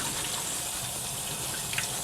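Steady running cold tap water pours continuously at moderate volume, a smooth hissing splash with no voices, rinsing bees and varroa mites down into a paint strainer.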